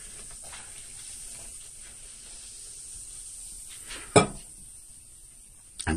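Boiling water pours onto jewelry in a glass bowl with a soft steady hiss and trickle, quiet throughout, with a sharp clink near the end and another brief knock at the close.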